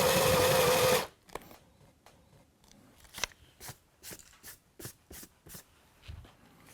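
A drill with a 22mm spade bit bores a hole in engineered wood or laminate flooring around a 15mm pipe: a loud, brief whirring burst, then a series of quieter rhythmic clicks and taps.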